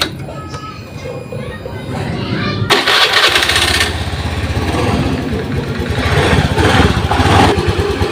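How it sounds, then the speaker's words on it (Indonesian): A Honda Beat FI scooter with a rough starter and sputtering, stalling fault is started after wiring repair: a brief quiet stretch, then the electric starter cranks and the small engine catches loudly and keeps running close by. "Sekarang kita coba hidupkan motornya."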